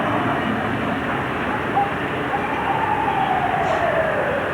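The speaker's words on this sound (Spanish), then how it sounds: "¿Para qué tanta ambulancia? Uy, tanta sirena" An ambulance siren wails faintly in the distance, rising and falling over a steady low rumble of traffic.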